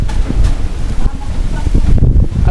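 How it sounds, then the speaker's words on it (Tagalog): Typhoon wind and heavy rain roar steadily across the microphone with a low, rushing rumble through coconut and banana trees, and a voice murmurs briefly beneath the gusts. "umulan pa rin at saka malakas ang ulan o hangin"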